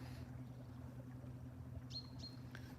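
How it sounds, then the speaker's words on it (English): A few brief, high bird chirps sound in the distance over a steady low engine hum from a boat on the flat-calm Dilham canal in the Norfolk Broads. "You can probably hear a few birds and stuff now."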